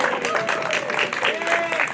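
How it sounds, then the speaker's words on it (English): Crowd at a St. Patrick's Day immigrant-welcome rally applauding, a continuous wash of clapping with voices and cheers mixed through it, moderately loud. "You can applaud on that."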